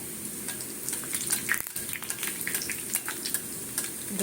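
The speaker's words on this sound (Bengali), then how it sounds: "প্রথমে পাঁচটা ভাজি তারপরে আবার পরে দেব" Mung dal puli frying in hot oil, a steady crackling sizzle with scattered pops and spits running continuously at moderate level, no voices.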